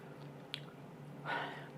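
Crunching and chewing on homemade keto meat chips, roast beef among them, up close: a small crisp bite followed by a longer muffled crunch, quiet and without talk.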